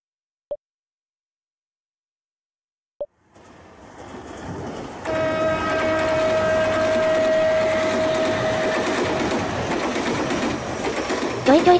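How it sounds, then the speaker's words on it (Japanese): A train pulls into a station in a video game: after two faint clicks and silence, a rumbling rush swells in and holds steady with a sustained tone over it, ending in a few sharp knocks. "間もなく電車が参ります。"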